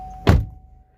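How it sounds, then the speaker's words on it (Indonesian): Driver door of a pre-facelift Chevrolet Trax crossover SUV swings shut in a single close, solid thunk with the engine idling, then a short fading rattle before quiet. "Yuk kita tutup dulu pintu"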